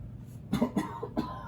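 Three short coughs, close by and fairly loud, spaced unevenly across a quiet background.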